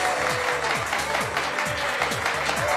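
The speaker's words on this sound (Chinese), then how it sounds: "来，掌声送给他。" A studio audience at a televised obstacle-course game show applauds a contestant, a soft, continuous patter of clapping with a recurring rhythmic thump underneath, fairly quiet and distant.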